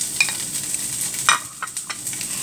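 Onion sizzles gently in olive oil in a pan, a soft steady crackle broken by a few light scraping stirs, close by and fairly quiet.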